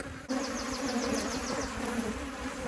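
Angry Buckfast honey bees buzz densely around an open hive, a loud, constant swarm drone close to the microphone, with a sharp knock near the start.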